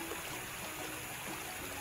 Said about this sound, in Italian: Un getto d'acqua per rimuovere il primo strato di polvere e sporco.